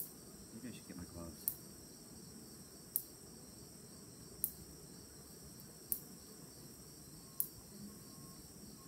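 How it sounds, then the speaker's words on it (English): A late-summer swarm of honeybees in a box at McIndoe Falls gives off a steady, dense low hum, with faint sharp ticks recurring about every second and a half. "Tons of bees."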